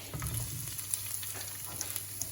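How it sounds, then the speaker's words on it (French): Chili peppers frying in a pan over high heat while a shrimp and coconut curry is cooked, giving a steady, close sizzle that runs unbroken throughout with no voices over it. "je vais faire cuire un peu les piments avec"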